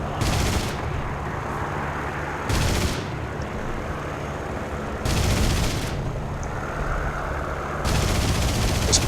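Aircraft machine guns in the War Thunder air combat game fire in three sharp bursts, loud and close, spaced a few seconds apart over a steady roaring engine drone.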